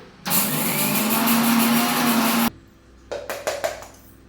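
A mixer grinder powdering spices for tomato pickle, running loud and steady for about two seconds, then stopping, followed by a few short pulsed bursts.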